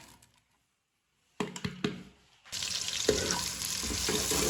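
Finely chopped onions, about six, hit hot oil for chicken biryani, breaking into a steady close sizzle after a few clattering knocks of utensils.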